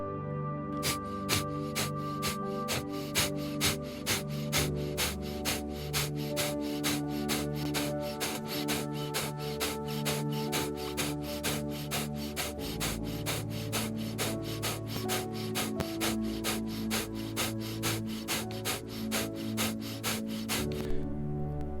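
A long run of rapid, rhythmic forced exhales in Kapalbhati yoga breathing, dozens of short breathy puffs at a steady quick pace over soft background music.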